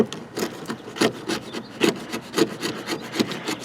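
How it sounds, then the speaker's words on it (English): Coarse 80 grit sandpaper rubs over a surface in quick, uneven strokes, a close, dry rasping scratch repeating several times per second with no talk. "I can just kind of sand the rest of that down nice and flat"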